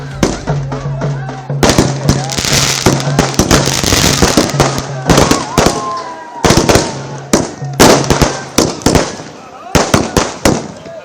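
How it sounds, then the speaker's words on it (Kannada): Firecrackers burst in a village celebration, with dense rapid crackling volleys and sharp pops that come close and loud in clusters and then break into separate bangs, with voices heard in between. "ಅಭಿಮಾನಿಗಳು ಪಟಾಕಿ ಸಿಡಿಸಿ ಸಂಭ್ರಮಿಸಿದ್ದಾರೆ"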